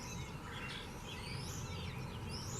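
Grackle calls ring out through a busy backyard feeder scene, several squeaky, rising chirps and whistles over a dense outdoor background of other birds and insects, moderately close.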